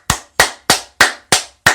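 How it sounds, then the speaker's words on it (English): Six sharp, evenly spaced claps like a dubbed sound effect. Each is crisp and loud and decays quickly, with nothing else underneath. "Put the clapping sounds."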